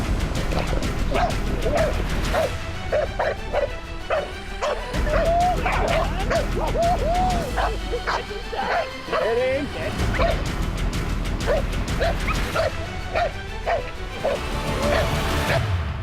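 Hunting dogs bark in rapid, overlapping bursts with yips and whimpers during a Florida hog hunt, loud and close, while people talk intermittently underneath.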